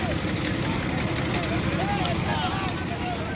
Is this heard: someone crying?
no